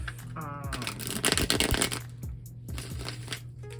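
Tarot cards being shuffled off camera, a close riffle and crackle of cards in bursts, with a soft steady hum underneath.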